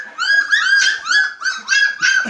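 Dreamy, a mother dog near her puppies, lets out a run of high, wavering whimpers and whines in close succession, close and fairly loud with no talk over them.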